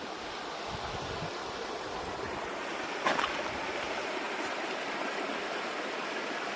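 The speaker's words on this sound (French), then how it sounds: "petit cours d'eau sympa là" A small stream flows through a mountain setting with cliffs, giving a steady, continuous rushing and babbling wash of water close by, with no talk over it.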